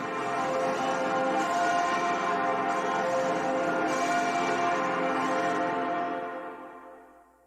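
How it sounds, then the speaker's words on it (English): Dense, sustained ringing of church bells sampled in a track, layered overlapping tones, steady and loud, then fading out at the end. "based around the sample of church bells"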